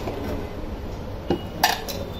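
Metal pots clink and a steel utensil clatters twice in a home kitchen as a pressure cooker is opened after whistling, brief sharp knocks over quiet room hiss.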